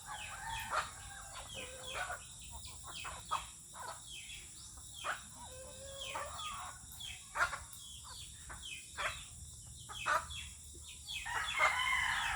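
Chickens and roosters in a yard, with a rooster crowing and hens clucking, fairly faint and scattered over a steady background hiss.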